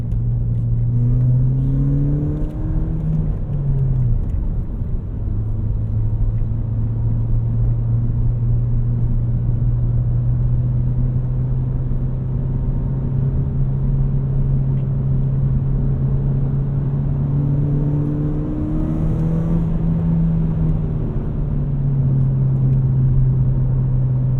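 Ford Fiesta ST with 240,000 miles, roughly 240 hp, accelerating hard with wheel spin; a steady, loud engine drone rises in pitch, dips at a gear change near five seconds, then climbs again, continuous and close throughout.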